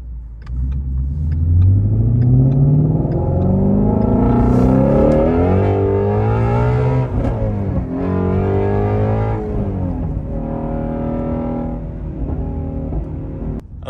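A Ford Shelby GT350's engine revs while driving, a close, loud rumble climbing in pitch through repeated rev swells and dropping back, with no talking.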